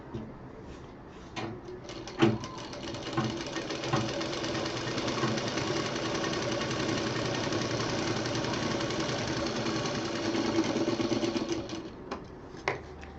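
A sewing machine double-stitches the seam of a round cushion in one long, steady run of rapid mechanical whirring, close and fairly quiet, with a few clicks before and after.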